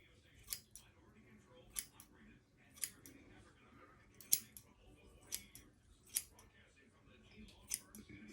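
Scissors snip curly hair with about eight sharp, evenly spaced clicks against a low hum, close by and fairly quiet.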